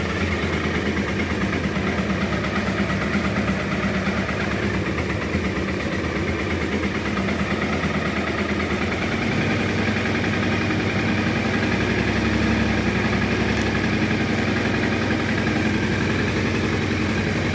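A freshly rebuilt Honda Transalp 600 motorcycle engine idles steadily after its first start, a continuous close, throbbing rumble with the note settling slightly lower partway through.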